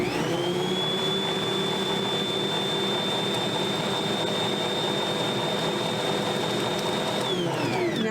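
An electric mixer fitted with cookie paddles churns cookie dough, a steady high motor whine holding for several seconds before winding down near the end.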